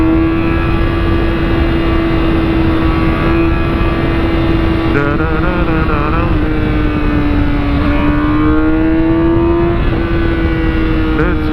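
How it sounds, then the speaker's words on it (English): Cars driving and revving on a road at night: a loud, constant engine drone runs throughout with shifting pitch as vehicles pass, and a voice briefly hums along over it. "A lot of cars tonight."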